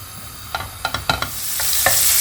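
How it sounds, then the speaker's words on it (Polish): Bacon frying in a second pan, cooked about five minutes to render the fat and crisp up, giving a steady sizzle broken by several short pops and crackles, no talk. "na drugiej patelni podsmażam boczek."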